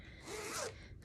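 A single quick zipper pull on a BrailleNote magnet carrying case, close and soft, lasting about half a second.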